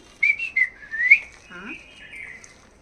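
A person whistles a short, high, wavering tune of a few rising and falling notes, close by, with a brief low voice partway through.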